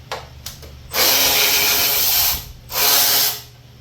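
A power tool pulls off the muffler cover on a Scotts riding mower, sounding as two loud whirring bursts close by, the first longer, after a few faint clicks.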